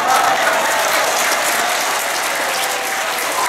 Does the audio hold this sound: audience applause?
yes